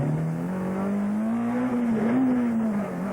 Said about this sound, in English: then listen to the engine on stage 8